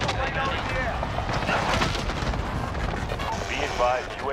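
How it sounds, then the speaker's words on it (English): Chaotic Call of Duty: Modern Warfare combat with dropped bombs booming and crackling amid gunfire, dense and loud throughout, with a player's voice talking over the noise. "I'm just dropping bombs on it"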